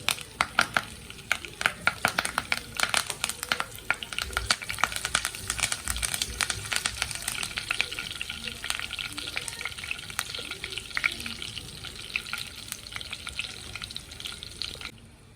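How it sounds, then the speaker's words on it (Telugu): Cumin, green chillies, curry leaves, crushed ginger and garlic fry in hot oil over a medium flame for mutton liver fry. There is a dense, close sizzle, with sharp clatters of stirring at the start. "పచ్చివాసన పోయే వరకు కొంచెం మీడియం ఫ్లేమ్లో పెట్టుకొని పచ్చివాసన పోయే వరకు వేయించుకోవాలి"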